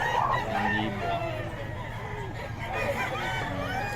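A rooster crows among gamecocks for sale at a market in Bocaue, with other fowl and crowd chatter around it.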